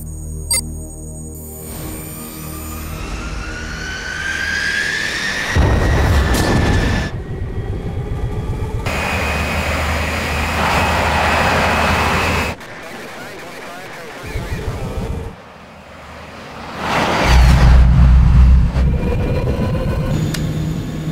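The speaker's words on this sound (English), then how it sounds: "Bloodhound engine start." The Bloodhound SSC jet car built for a 1000 mph land speed record starts its engine, a rising whine building into a loud roaring rush with surges and drops, with voices talking over it.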